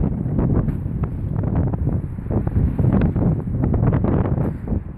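Strong wind buffeting a microphone outdoors, a loud continuous low rumble with gusty fluctuations throughout.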